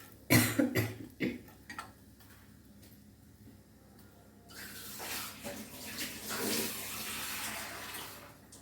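Tamarind water is poured into a pot of kanni ayala (mackerel) fish curry, a steady splashing pour in the second half after a few sharp knocks and a cough-like sound.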